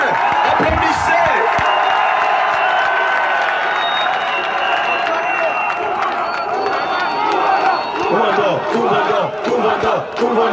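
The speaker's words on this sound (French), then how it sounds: "Applaudissez bien. Applaudissez." A large crowd in an open-air stadium in Yaoundé applauds, cheers and shouts continuously at a political rally, a loud, sustained roar of clapping and voices throughout.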